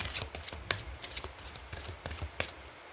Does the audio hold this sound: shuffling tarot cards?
yes